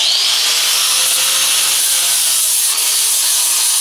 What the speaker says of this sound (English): Just give it a going over with the grinder to sort of carve it down and clean it up.